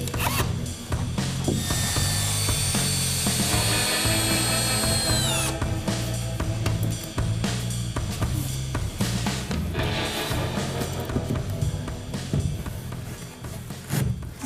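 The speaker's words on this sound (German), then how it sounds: "Nimm mal den Akkuschrauber." A cordless screwdriver whirs in short bursts with a brief rising whine, close and fairly loud, alongside rubbing and handling noises during work on a camper van.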